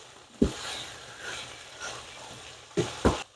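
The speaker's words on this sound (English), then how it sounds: "So we're going to stir this and let it brown just a tad more." Sausage, peppers and onions brown in a pan with a little olive oil, a faint, soft sizzle broken by a few sharp scrapes and knocks of a utensil stirring, one early and two close together near the end.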